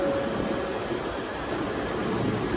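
An Osaka Metro 400 series subway train, newly debuted, rumbles steadily throughout with a continuous broadband roar and low rolling noise, heard from inside, no talking.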